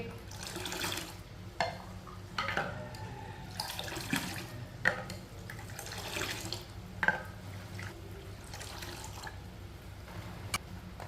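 Water poured into homemade lychee juice in a kitchen, a quiet splashing trickle with small gurgles and clinks scattered throughout, fairly soft and close, with no talking over it.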